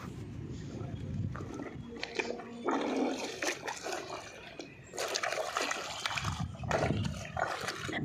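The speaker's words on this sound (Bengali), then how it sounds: "ব্ল্যাঙ্কেট ধোয়া কি চারটিখানি ব্যাপার?" Blanket being washed by hand in water, heard as repeated sloshing, splashing and wet thumping strokes in irregular bursts, fairly close, with a voice speaking at times.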